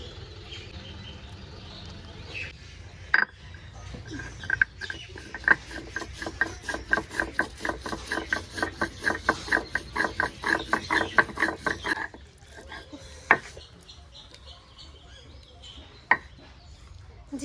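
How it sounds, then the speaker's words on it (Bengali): Cumin seeds ground on a grinding stone: a fast, even series of rhythmic rubbing scrapes and taps, close and moderately loud, running for several seconds before stopping, with a few isolated knocks around it. "জিরেটাও বেটে নেবো"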